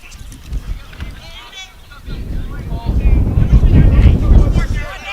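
Gusty wind buffets the microphone at an outdoor high school baseball game as clouds roll in, a low rumbling roar that swells louder in the second half, with a voice talking over it.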